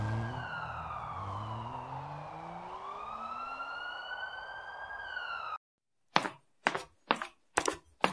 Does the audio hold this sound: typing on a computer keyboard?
no